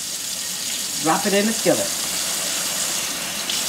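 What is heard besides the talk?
cold water running from tap while making cornbread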